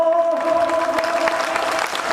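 Applause from a crowd at a Shaheed Bhagat Singh birth anniversary gathering, a brief burst of clapping with a tonal voice or sound running under it and some crowd noise.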